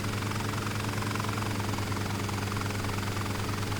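A Bell 47 helicopter in flight in Flight Simulator drones with a steady, dense engine roar and rhythmic rotor thrum, constant and close throughout with no pauses.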